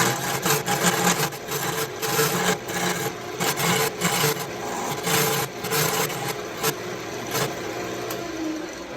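A log being turned into an Elder Wand on a wood lathe, a steady close rasping and scraping of the tool against spinning wood, with rhythmic bumps and chatter throughout.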